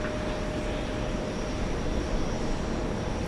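An American Airlines 787 Dreamliner rolling for takeoff at JFK, a dense, steady jet roar with a faint high whine, loud and constant with no speech.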